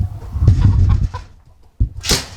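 Chickens in a farm coop give a few close, loud bursts of clucking, with a short pause between the calls.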